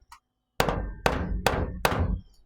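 A hammer strikes metal body mount stampings on a 1961 Rambler frame swap, four loud ringing blows close together at a steady pace, each leaving a short metallic decay.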